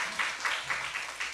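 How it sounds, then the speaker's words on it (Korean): Church congregation clapping together during a Sunday worship service, a rhythmic, steady round of applause with regular beats, moderately loud and without speech over it. "하나님의 은혜에 먼저 오늘은 박수 칩시다."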